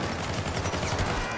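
Rapid bursts of gunfire from the video game Syndicate, dense and loud, with overlapping shots crackling continuously through a brief moment and no talk.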